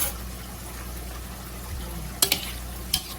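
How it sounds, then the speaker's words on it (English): A spoon stirs lemon into berries in a home kitchen, a soft wet churning swish that runs steadily under a background hiss, ending with a few light clinks against the bowl. "Just stir that into your berries."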